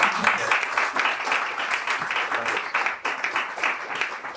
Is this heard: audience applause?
yes